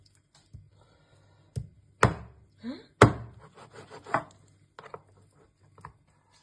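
Raw chicken is chopped with a knife on a board for Hyderabadi chicken biryani, with about half a dozen sharp, irregular thunks spread over several seconds, close and crisp against a quiet background.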